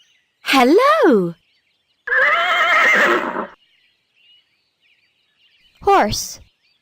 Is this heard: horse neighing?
yes